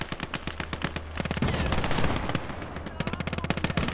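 Rapid gunfire in the WWII-style game Last Grenadier 1946, crisp repeated shots in quick bursts with a dense volley of overlapping fire in the middle, close and loud.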